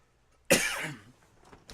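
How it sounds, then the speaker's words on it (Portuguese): A single sharp cough bursts out after a short silence, followed by a breathy, fading tail and a faint trailing exhale. "estou com a tosse um pouco aqui"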